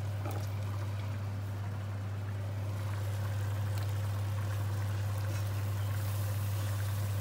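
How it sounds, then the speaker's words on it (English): Water and chopped rhubarb being poured into a pan of lentils on the stove, a soft continuous pouring and trickling sound over a steady low hum, close and moderately quiet, with no talking. "Along with another 150 millilitres of water, I'm going to put the rhubarb in."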